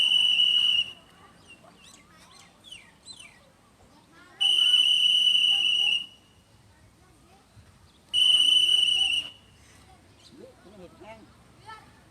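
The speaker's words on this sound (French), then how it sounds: "Trois coups de sifflet, pas plus, pour monter le drapeau de la Croix-Rouge." Three loud, sustained whistle blasts at a school in Thailand, each about one and a half seconds long, evenly spaced, with faint chatter and birdlike chirps between them, signalling the raising of the Red Cross flag.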